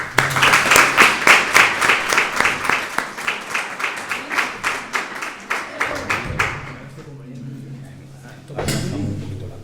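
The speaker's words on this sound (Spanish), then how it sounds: "Un aplauso." An audience at a talk welcomes the lecturer with applause, a quick, even patter of claps that thins and fades over several seconds before a voice speaks near the end.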